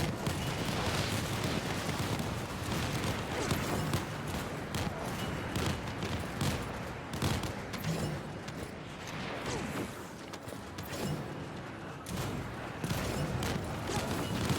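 Constant explosions and weapon fire in the video game The First Descendant make a dense, rumbling barrage of booms and blasts that keeps going throughout, fairly quiet overall with no clear talk.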